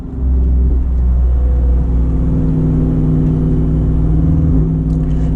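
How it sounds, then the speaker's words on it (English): A Jeep Wrangler Unlimited with the 392 Hemi V8 pulls hard under acceleration, a loud, sustained deep engine rumble and roar heard from inside the cabin. "The way this thing accelerates,"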